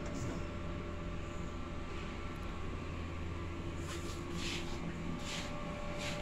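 A steady mechanical hum and whir of a DTF printer running, continuous and even, with faint higher clicks of moving parts.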